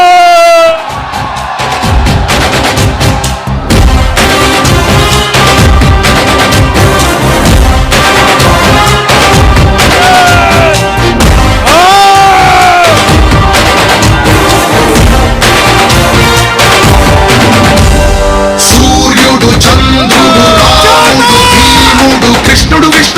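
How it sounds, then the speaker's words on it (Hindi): A hall audience greets a speaker with loud, continuous cheering, shouting and whooping, mixed with a blaring musical intro that stays near and loud throughout. "आपकी जोरदार आवाज, धमाकेदार तालियां।"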